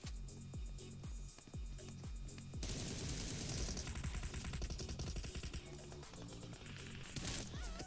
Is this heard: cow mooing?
no